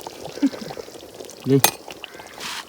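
Water pours in short splashy bursts into pounded chilli in a pot of chicken cooking outdoors among village friends, alongside faint sizzling and stirring clatter, with voices talking nearby.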